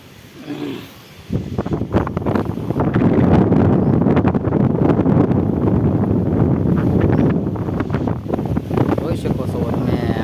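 Strong wind gusts buffet the microphone at a Mahadev temple with flowering plants and coconut palms around, a loud, continuous roaring rush close by.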